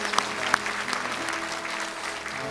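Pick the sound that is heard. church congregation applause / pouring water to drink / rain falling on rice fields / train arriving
church congregation applause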